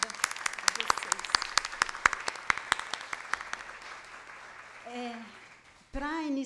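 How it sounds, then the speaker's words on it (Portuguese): Audience applause at an academic linguistics conference, a 70th GEL seminar session: brisk, dense clapping in a hall that thins and fades over several seconds before a voice begins speaking. "eu gostaria de pedir uma salva de palmas"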